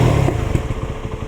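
Jawa 42 FJ motorcycle engine running close by, a steady low throbbing idle with a brief blip of revs near the start, alone without any talk.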